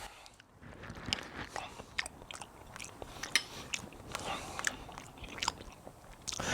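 Someone eats a mouthful of shrimp etouffee, with soft wet chewing and bites repeating close to the mic for several seconds and faint scrapes of cutlery, no talking.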